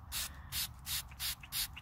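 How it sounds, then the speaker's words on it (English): A spray bottle spritzes four or five times in a steady rhythm, each short hissing burst close and distinct. "The old spray bottle."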